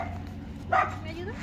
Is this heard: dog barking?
yes